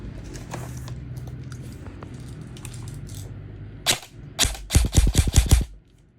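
Budget airsoft AEG rifle with metal parts and a 300-round metal magazine, fired out of the box during an FPS test: first a single sharp shot, then a quick burst of several loud snapping shots close to the microphone over low background hum.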